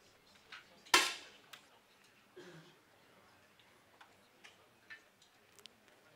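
A sharp, loud crack of a 10m air rifle shot in a women's final at the Munich ISSF World Cup, followed by faint scattered clicks and a soft murmur from the hall.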